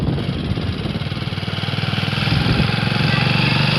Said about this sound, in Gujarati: ટ્રેક્ટર આવી રહ્યું છે. ટ્રેક્ટર આને કહેવાય મિની ટ્રેક્ટર.